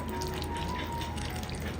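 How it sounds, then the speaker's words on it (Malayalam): Water is poured from a cup into wheat flour in a bowl while mixing a batter, giving a steady, soft, continuous trickling wash that stays even throughout, with no talk. "ഇനി വേണമെന്നുണ്ടെങ്കിൽ വീണ്ടും വെള്ളം ഒഴിച്ചു കൊടുക്കാം"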